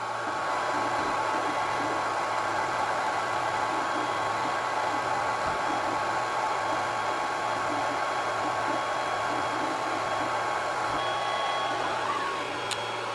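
A Longer B1 40W laser engraver running fast at 40,000 mm/min, a steady airy fan-like hum with faint motor whine, constant and close, ending in a brief sharp click, with no talking.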